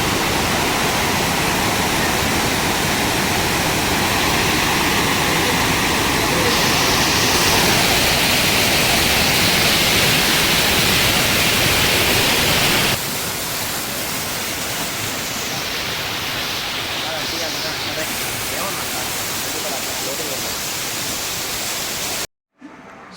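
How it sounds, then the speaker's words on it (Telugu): Jagaram waterfalls roar in a steady, dense, hissing rush up close, loud and unbroken, shifting slightly in tone partway through before cutting off at the end. "ఈ వాటర్ ఫాల్స్ చాలా బాగున్నాయి ఫ్రెండ్స్"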